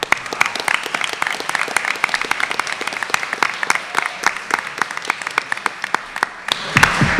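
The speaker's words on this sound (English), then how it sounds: "Let's give her a round of applause." An audience at a school student recognition ceremony applauds a volunteer award winner, many hands clapping in a continuous, moderately loud patter with sharp individual claps standing out near the microphone.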